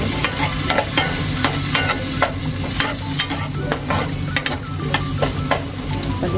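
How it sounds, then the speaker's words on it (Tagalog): Garlic sautés in margarine or butter in a pan for creamy sopas, with a loud continuous sizzle broken by frequent, rhythmic spatula scrapes and stirring taps, close up and without speech. "igigisa natin ang bawang at sibuyas"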